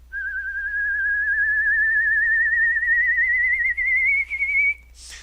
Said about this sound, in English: he can hear the sound of the whistling of the kettle as it comes to the boil